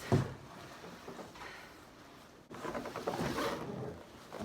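A sit-on-top kayak weighing about 55 pounds is pulled from its cardboard box, with scraping, rustling and sliding scuffs of plastic against cardboard in two bursts, the second louder and longer.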